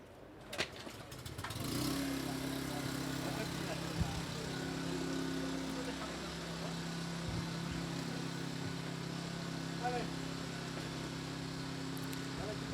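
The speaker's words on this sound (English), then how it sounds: "So, der Generator wurde angeschmissen." A generator powering Holmatro rescue tools at a vehicle-extrication exercise starts up after a few bangs and settles into a steady engine hum, with people talking over it.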